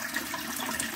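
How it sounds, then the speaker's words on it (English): Toilet flushing in a house under renovation, a close, steady rush of water lasting the whole moment without any talking. "That is the flush."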